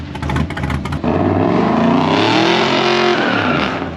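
A race car engine is revved hard: a second of sharp, choppy blips gives way to a sustained loud roar that holds and rises in pitch before easing slightly at the end.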